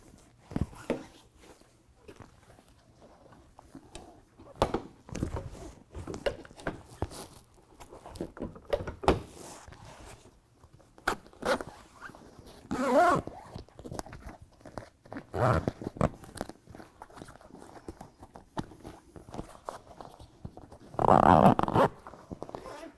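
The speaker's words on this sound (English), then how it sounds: "And then now we're gonna zip in our window." A window zipped into a Rugged Ridge replacement soft top on a Jeep: close, intermittent rasping zipper pulls separated by pauses and handling noises, with one louder, longer stroke near the end.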